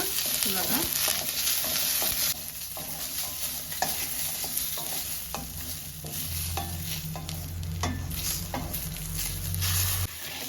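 Onion and grated coconut frying in a pan for a South Indian chicken curry, a close steady sizzle with repeated scraping strokes of a spatula stirring, dropping slightly in loudness after the first couple of seconds.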